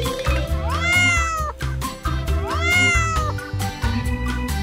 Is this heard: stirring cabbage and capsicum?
no